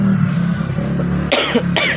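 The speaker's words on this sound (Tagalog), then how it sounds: "Nuubo-ubo pa nga tayo." Two short, sharp coughs close by, one after another near the end, over a steady low background hum.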